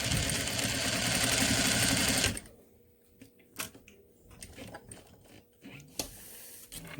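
A sewing machine top stitches a Belgian fabric face mask at a quarter inch seam allowance, a fast steady whir for about two seconds, then stops, leaving quiet handling clicks and light taps.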